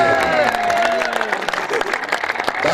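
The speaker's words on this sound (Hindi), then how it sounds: "सारी तरफ जोरदार तालियां" Applause and cheering from a crowd at a neza baazi tent-pegging festival in Kharian, Gujrat, where a team prize is being announced; steady dense clapping over a PA voice and a sustained tone, continuous for a few seconds.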